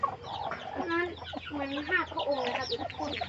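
A fighting rooster clucks repeatedly and close by on a Thai gamecock breeding farm, a run of throaty, choppy calls with light background noise.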